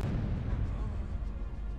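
A deep rumbling explosion in Castlevania 64, triggered by jumping while carrying a volatile chemical, a dense low boom that fills the whole short moment, loud and close.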